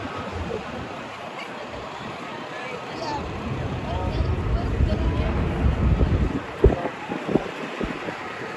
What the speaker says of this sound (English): Windy night tonight, very windy.